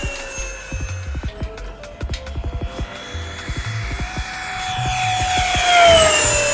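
An E-flite Habu XS 80mm electric ducted-fan RC jet whines past in flight, a high, steady turbine-like tone that rises and swells louder toward the end, with rhythmic low thumps and clicks early on.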